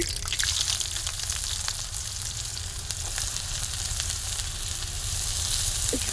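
Chopped onions fry in hot oil with a loud, continuous crackling sizzle that holds steady throughout, with no voices.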